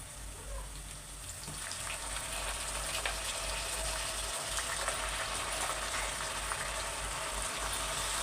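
Steady running water and splashing as more than half a kilo of mutton is rinsed fresh in a home kitchen, a continuous close wash with no talking.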